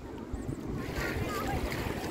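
Sea waves break against a rock barrier on a Mediterranean beach near Rome, a continuous rushing wash with wind buffeting the microphone and faint voices nearby.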